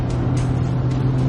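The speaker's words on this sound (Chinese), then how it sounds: "再有就是当你突然深踩的时候， 就是你能听到发动机声，但是那是好听的。" Engine of a 2022 Citroen C5X under hard acceleration, heard from inside the cabin as a brief, steady, low droning hum with an even level.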